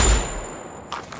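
Gunfire in the Wolfenstein Youngblood video game: a loud opening shot burst that tails off, followed by a quieter second crack near the end, with no talk.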